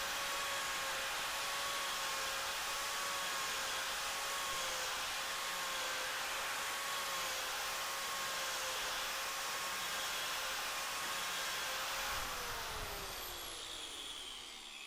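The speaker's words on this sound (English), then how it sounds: "I should get shavings very similar to that when I attach it to an angle grinder" An angle grinder fitted with a scraper-style wood carving attachment works a piece of wood, giving a loud, steady high motor whine that holds for about twelve seconds and then winds down.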